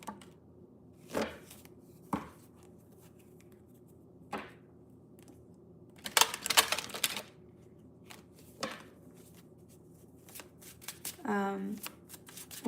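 Tarot cards are shuffled for a one-card pull in a few separate riffling bursts spread over the span, close and fairly soft, with a voice speaking briefly near the end.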